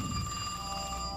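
A telephone rings in a New York setting, a steady bright electronic trill that fills the short moment clearly, with no talking over it.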